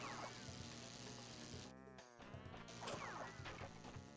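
Insect-like buzzing from bees in the video game Crash Bandicoot 2, heard among dense game music and sound effects, with crashes and thwacks layered over the buzz for several seconds.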